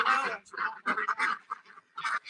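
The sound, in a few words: ducks quacking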